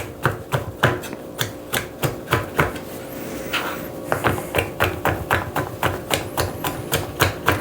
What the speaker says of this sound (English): Hopefully you can see me chopping this